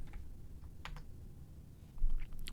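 Keystrokes on a computer keyboard, a quick scattered run of light clicks typing a short search term, with a slightly louder burst of taps near the end over a quiet room hum.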